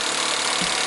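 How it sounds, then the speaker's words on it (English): An impact gun running axle nuts onto the quick-change differential of an E46 BMW gives a loud, dense, continuous mechanical whir for about a second, close up and with no talk. "I just run them in with the gun all the way."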